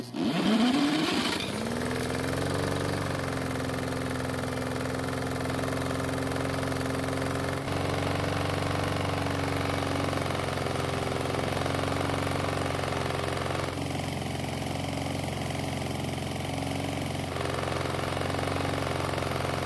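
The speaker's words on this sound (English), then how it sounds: "surprisingly, it started and ran" A Snapper lawn mower missing its pull rope and handle starts, its engine catching and settling into a loud, steady idle that runs alone without a break.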